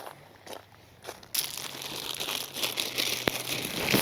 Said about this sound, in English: So I will be putting plastic bag over the camera.